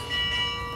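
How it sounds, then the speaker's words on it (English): A bell rings in Assassin's Creed Mirage, a single loud sustained metallic clang with long ringing overtones that starts almost at once and holds steady to the end. "I'll ring the bell."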